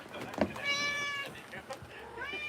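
A cat meows once, a clear rising-falling harmonic cry close to the microphone, with a person speaking softly around it and a gaming-stream background.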